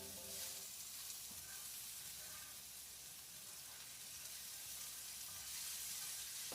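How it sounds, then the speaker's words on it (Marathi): Sliced potatoes dropped into onions frying in a pan, giving a steady close hiss and sizzle of hot oil throughout with faint stirring underneath and no talking. "कांदा शिजवून झाल्यानंतर आपण बटाटी कापून ठेवले होते, ती बटाटी आता मी याच्यामध्ये टाकणार आहे।"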